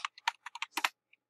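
A run of quick, close computer-keyboard keystrokes, about eight crisp clicks in an uneven rhythm ending with one faint tap, with no one speaking.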